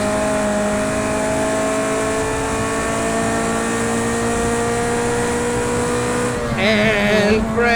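A Ferrari 288 GTO races in a driving game, its engine holding a loud, steady high drone before a burst of revving and shifting pitch near the end.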